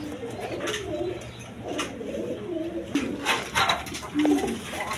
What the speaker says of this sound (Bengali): দর্শকবৃন্দ এগুলো সিঙ্গেল নর কবুতর, খুব কোয়ালিটি সম্পন্ন কবুতরই দেখেন